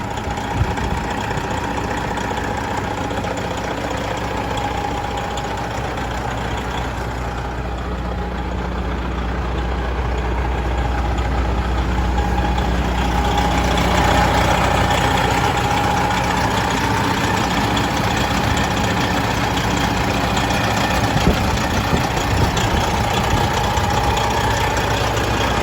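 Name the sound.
Freightliner Coronado glider kit truck engine idling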